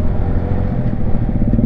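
A Yamaha TFX motorcycle rumbles close by with a steady, low, throaty engine note and slight revving fluctuations, loud and continuous, with no voices over it.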